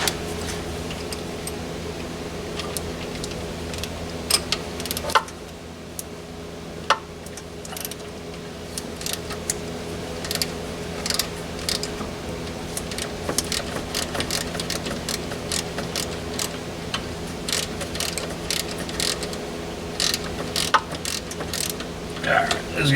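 A ratchet clicks steadily as spark plugs are loosened from an AMC Spirit AMX engine, close rapid ticking in bursts over a faint background hum, with occasional metallic knocks.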